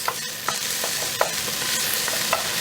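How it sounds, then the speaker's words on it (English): Finely chopped garlic frying in a pan gives a bright, steady sizzle, with several soft stirring scrapes from a utensil, close and moderately loud. "I have chopped my garlic real fine, or fairly fine. And I want to just stir that just for about a minute"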